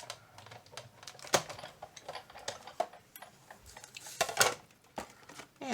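A manual die cutting machine rolls an ornate, detailed die through for a second pass, producing quiet irregular clicks, ticks and light clacks with a few sharper knocks, close by and with no talk.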